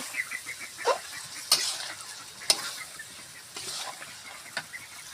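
Meat stir-fried in a pot for khichuri sizzles softly while a spatula scrapes and clatters against the pan in several sharp, irregular strokes.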